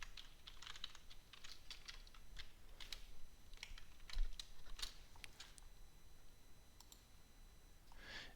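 Computer keyboard typing in a quiet room, with irregular bursts of light clicking keystrokes spread steadily across the span at a moderate level.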